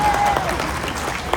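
Brief applause from an audience at a fan expo Q&A, a short burst of clapping that fades within a second or so.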